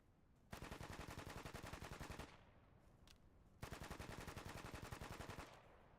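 An advanced machine gun course on a firing range, with a machine gun firing two sustained bursts at a target reference point. The rapid, loud, evenly spaced shots run about two seconds each, separated by a short pause.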